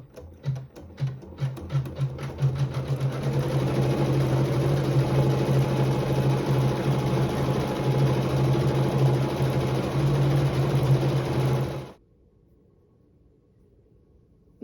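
An embroidery machine stitches quilting through fabric in a hoop, opening with a few quick separate taps and then settling into a steady, loud, fast mechanical whir with an even beat. It runs for about twelve seconds, then stops and leaves quiet.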